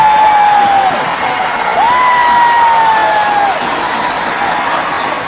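Indian supporters cheering at an India versus New Zealand cricket match, a steady loud crowd roar with whoops and shouts, while a commentator's voice or a whistle-like tone rises and falls over it.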